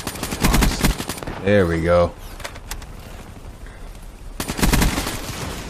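Bursts of automatic gunfire from a shooter video game, a rapid rattle at the start and again near the end, with someone talking over a quieter stretch between them.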